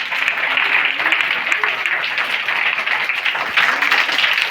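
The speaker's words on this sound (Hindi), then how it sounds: "माँ की इस दयालुता के लिए एक बार जोरदार ताली बजाइए आप लोग" A school audience at a Vidya Mandir event in Bhusauli for International Women's Day breaks into loud, sustained applause, a dense wash of clapping that fills the whole moment without letup.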